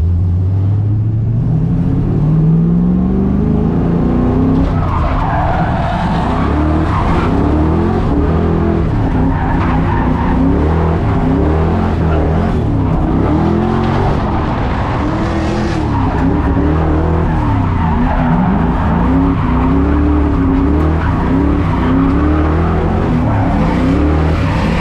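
A Fox Body Mustang drifting in tandem runs at a drift track: loud, sustained engine roar with rising revs and repeated tire squeal and skidding, close and continuous throughout.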